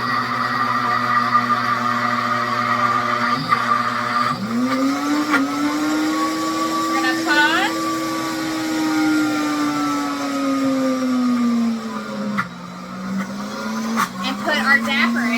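A blender grinds peanuts into peanut butter in a home kitchen, the loud motor whining and rising in pitch, then dipping and straining as the thick mixture is pushed down, with occasional knocks.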